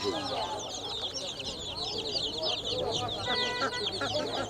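Many chicks at a poultry market in Kyzylorda, Kazakhstan, peep and cheep at once in a continuous busy chorus, with some clucking and a faint voice in the background.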